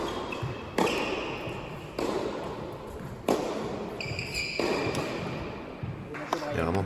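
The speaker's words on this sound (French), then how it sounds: "Service coup droit frappé à hauteur de hanche, tout ce qu'on aime." Tennis ball struck on a hip-height forehand during a club team match, several sharp broadband hits and bounces spaced a second or so apart, close and crisp, with people talking over them.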